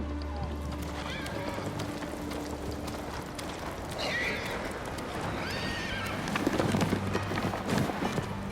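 A horse whinnies in the video game Ghost of Tsushima on Iki Island, a rising neigh near the middle over clopping hooves, rustling movement and a low steady hum.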